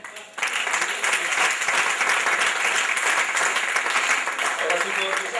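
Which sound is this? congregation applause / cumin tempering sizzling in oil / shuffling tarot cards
congregation applause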